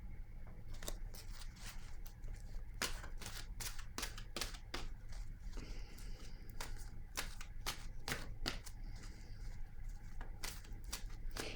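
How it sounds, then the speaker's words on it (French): Cards from an oracle deck being shuffled and drawn, a steady run of crisp riffling flicks and snaps, close and fairly quiet, with no talking. "Je vais maintenant piger une carte de mon oracle de l'âme intuitive."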